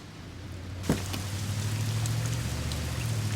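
Steady rain falls in an outdoor night scene, a dense even patter over a low hum, with a single soft thump near the start.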